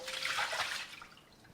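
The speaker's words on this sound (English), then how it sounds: "I'm gonna just dump the water." Hot water is dumped out of a bowl in a brief, quiet splash and trickle that fades within about a second.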